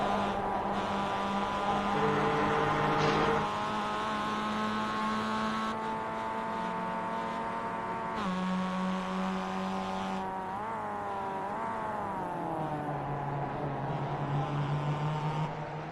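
Race cars roar around a track in a continuous engine drone whose pitch rises and falls as they shift and pass, loud and steady throughout with no talk.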